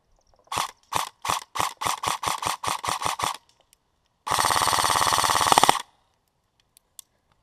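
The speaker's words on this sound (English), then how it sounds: "Now we're gonna put 30 rounds through it to make sure it's still feeding." An airsoft gun fires 30 rounds from an Elite Force mid-cap magazine: nine single shots in an even rhythm, then after a short pause a sustained rapid burst of about a second and a half, loud and close.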